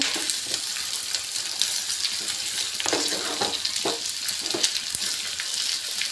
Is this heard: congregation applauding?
no